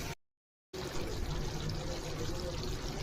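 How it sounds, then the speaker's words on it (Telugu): Water is poured into a simmering chicken curry, a brief gap of silence and then a steady, fairly quiet pouring and bubbling wash that continues to the end. "లైట్గా కొన్ని వాటర్ పోసుకున్నాం."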